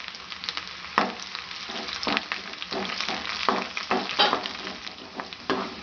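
Chopped onion, green chili and curry leaves hit hot oil after mustard seeds in a pan. The result is a continuous close sizzle broken by repeated stirring scrapes and bursts.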